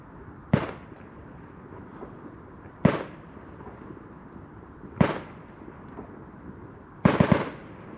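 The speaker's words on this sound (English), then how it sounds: "Fireworks, Boxing Day night." Fireworks go off on Boxing Day night, heard from a winter bivvi camp: four distant bangs spaced roughly two seconds apart, the last a quick double pop, over steady outdoor background noise.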